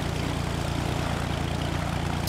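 Steady propeller aircraft engine drone from a plane cruising over the ocean in the Flight Simulator X video game, continuous and even in level with no talking.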